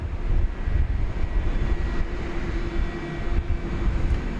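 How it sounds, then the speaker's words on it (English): An American Airlines Airbus A321neo departs DFW bound for Phoenix, a broad low engine roar, steady and moderately distant, with no voices. "That was American Flight 1317 off to Phoenix, Arizona, Airbus A321neo."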